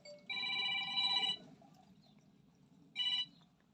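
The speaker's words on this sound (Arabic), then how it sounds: "شوف التليفون" A telephone bell rings in two bursts, a long ring of about a second and then a shorter one after a pause, clear and close over a low room hum, with no talk.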